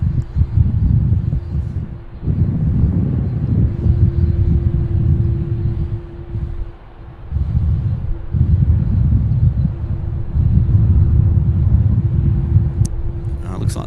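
The Qantas 19 heavy airliner lands at Sydney Airport with a loud, low rumbling roar that swells and dips in waves, a steady hum running beneath and wind buffeting the microphone.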